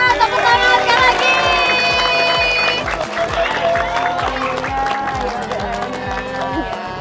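Crowd applauding and cheering outdoors at a house demolition event, dense clapping under music with tonal melodic lines and a steady beat throughout.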